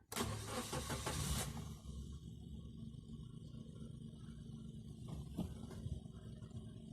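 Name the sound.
2010 Nissan Pixo engine starting with the key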